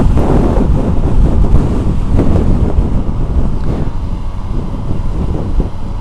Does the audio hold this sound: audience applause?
no